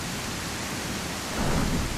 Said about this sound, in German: Diesen lauten Regen.